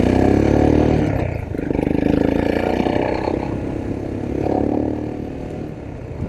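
A Royal Enfield Himalayan motorcycle fitted with a big bore kit and aftermarket muffler runs close by, its engine rising and falling in a throaty, uneven rev with loud low rumble and clatter.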